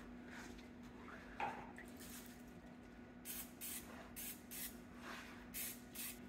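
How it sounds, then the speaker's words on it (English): Short bursts of cooking spray hiss around the edges of a skillet, six or so quick spritzes in a loose rhythm, fairly faint over a low background hum. "Just spray around the edges of the skillet."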